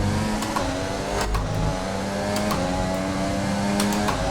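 An F1 car engine in the F1 2020 video game drones loud and high, its pitch climbing and shifting through gears in a sustained run with no voices over it.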